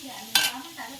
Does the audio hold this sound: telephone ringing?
no